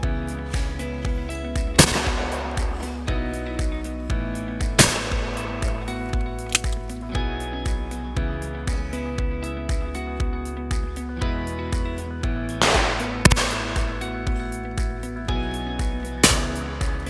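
Shotgun blasts from a Blaser F16 Grade 4 Sporter fired at clay targets, several sharp loud reports spaced across the stretch, some close together as pairs, over a steady background rumble.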